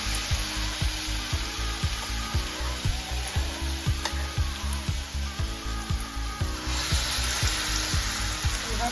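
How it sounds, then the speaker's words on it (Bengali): Dahi vada dough balls fry in hot oil in a kadai. A loud, steady, close sizzle continues throughout, with soft repeated thumps and bubbling as the balls puff up. "তেল গরম হয়ে গেছে বন্ধুরা এবার আমি এগুলোকে একে একে একটু ভেজে নেব"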